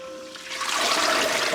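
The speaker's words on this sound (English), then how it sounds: "You can just like lift it up and drain all of the water." Water pours and trickles out of a lifted Strucket bucket holding freshly dyed yarn as it drains, a steady splashing rush that swells louder toward the end.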